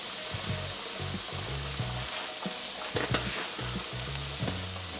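Broccoli and bacon sautéing in a skillet, a steady hissing sizzle throughout with a few faint stirring knocks, close and continuous with no talking.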